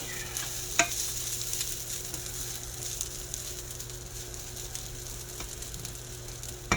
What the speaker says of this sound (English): I just kind of fry this up a little bit.